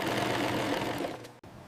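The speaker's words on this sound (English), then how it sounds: "An artisan sits at an industrial sewing machine, stitching two heavy panels together." An industrial sewing machine stitches heavy crocodile leather panels together in a leather goods workshop, giving a steady, close, continuous mechanical whir that stops sharply near the end.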